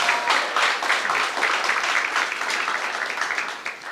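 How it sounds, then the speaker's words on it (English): Audience applause welcoming a guest to the front at a KZN Youth Business Awards chat event, a steady dense clapping from a crowd that stays loud for about four seconds and fades slightly at the end. "Can we give him a round of applause, please?"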